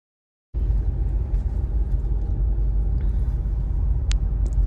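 Car engine rumble while cruising on the 4th of July, a loud, steady low rumble that starts abruptly and carries on close by, with a brief high chirp near the end.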